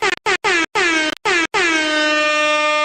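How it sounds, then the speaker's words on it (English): Air horn sound effect blasting in a quick series of short bursts, then one long sustained blare, loud and alone. "Let's get some air horns."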